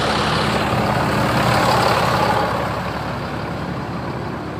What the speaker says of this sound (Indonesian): 103 salah satu bis ALS pemain dari Bogor